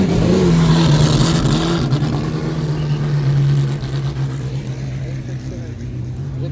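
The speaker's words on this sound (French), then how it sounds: "Il y a des voitures qui nous passent dans tous les sens." Classic race cars at the Le Mans Classic roar past close by, one engine note rising loud and then fading away, with a lower rumble lingering as other cars continue around.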